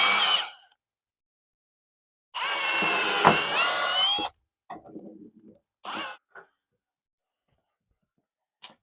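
A power drill pre-drills through wood decking into metal, with a short whine, then a sustained two-second run that strains and shifts pitch. Brief bursts and taps follow, with silent gaps between them.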